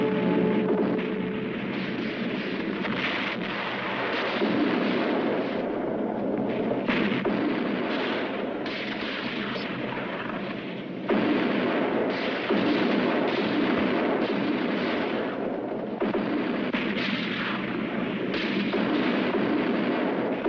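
Cannon fire from a fort in a western film, a continuous heavy roar of booming blasts and rumbling reports, loud and dense for twenty seconds with only a brief dip partway through.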